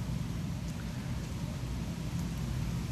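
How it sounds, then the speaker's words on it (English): Steady rain falls outdoors during a dog walk, a dense even hiss that continues unbroken throughout with no voices. "Because it's raining right now."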